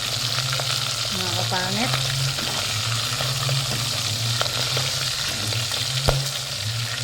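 Danggit and tulingan fish fry in a pan with a loud, steady crackling sizzle that runs throughout, joined by occasional sharper pops and brief faint voices in the background.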